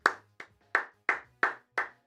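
Six single hand claps in a slow, steady rhythm, each sharp and close with a short decay, alone without talk.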